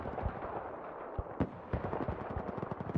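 Battlefield 4 multiplayer gunfire: sharp, loud shots and short automatic bursts crack out in quick, irregular succession, with heavier booms mixed in over a steady rumble of battle noise.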